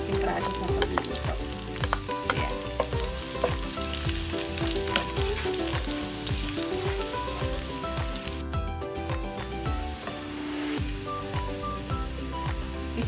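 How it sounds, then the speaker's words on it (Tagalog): Garlic and onion sautéing in a hot pan while cooking Filipino adobong tilapia, a loud, constant crackling sizzle close by, with frequent scraping and clinking strokes from stirring throughout. "So, gigisa lang natin ang ating bawang sibuyas."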